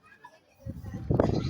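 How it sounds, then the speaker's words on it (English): Goats bleating amid a crowded animal auction, a couple of faint calls at first, then a louder, dense burst of bleats and pen noise from nearby. "Goats, goats, goats."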